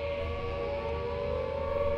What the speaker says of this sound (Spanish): las sirenas que alertaron un ataque aéreo se hicieron escuchar por toda la ciudad de Los Ángeles